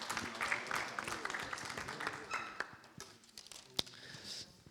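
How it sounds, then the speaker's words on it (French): A small meeting audience at a municipal syndicate committee session gives brief, scattered applause that starts fairly dense and thins out over a few seconds, with a sharp knock near the end. "Et on peut l'applaudir quand même."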